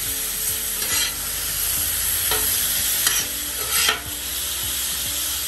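Cajun-seasoned cheesesteak meat is mixed and tossed in a hot pan, a steady close sizzle with a few scraping strokes breaking through, no voices.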